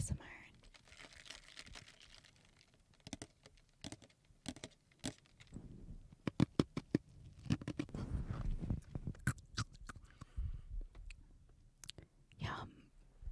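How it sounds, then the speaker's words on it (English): Soft close-up ASMR handling sounds for a matcha drink, with light crinkles, taps and mouth noises, whispered and quiet throughout, with brief louder bursts near the end. "Matcha ASMR."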